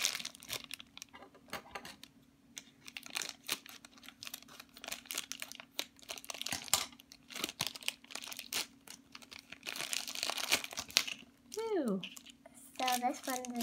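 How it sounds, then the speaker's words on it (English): A plastic bag around a Cake Pop Cuties plush toy is opened with close, irregular crinkling and rustling in bursts, while people talk quietly nearby. "So this one's in a plastic bag."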